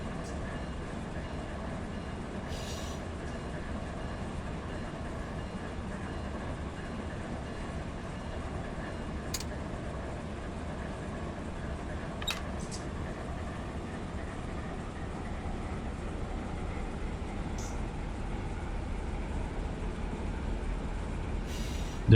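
Light locomotives with no cars run on rails from Waycross to Jacksonville, heard from on board as a steady, continuous rumble with occasional faint clicks and squeals, under a radio call.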